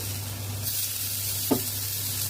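Chopped tomato dropped into a hot, sizzling pan in a home kitchen while cooking a jackfruit curry, giving a steady frying hiss with a brief louder spit midway.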